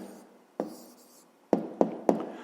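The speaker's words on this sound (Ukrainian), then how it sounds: "Ну і записуємо відповідь до другого завдання." Pen or pencil writing a math answer by hand on paper, close and soft: a faint scratch, then a quick series of three or four sharp taps and strokes spaced under a second apart, with no talk.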